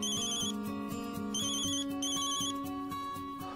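A phone rings indoors with a repeating electronic ringtone melody of quick, evenly pulsed tones. It plays continuously at moderate volume, with no talk over it.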